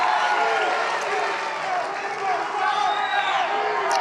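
Large crowd at a political rally, a dense, steady roar of many voices with scattered cheers and whoops, loud and sustained throughout.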